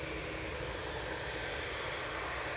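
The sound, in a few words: Boeing 787-8 Dreamliner departing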